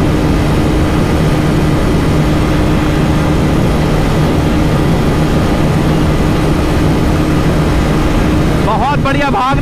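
A Honda CBR 250R motorcycle engine roars loud and steady at high speed in sixth gear during a drag race. Someone speaks over it near the end.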